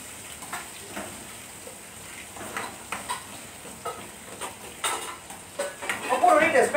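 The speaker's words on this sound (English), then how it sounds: "Okay, come, I stir." A utensil stirs chili and onions frying in a pan for masala crab, with steady sizzling and repeated scraping and clinking strokes that grow louder and busier toward the end, with no one talking.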